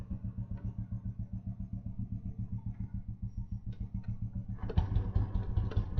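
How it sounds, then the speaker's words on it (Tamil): Vintage Royal Enfield Bullet motorcycle started with a single kick after repair, its single-cylinder engine thumping at a steady, even idle close by, then rising slightly with a louder, rougher tone near the end. "இது ஒரு கிக்கில் அடிக்குதான்னு பார்ப்போம்."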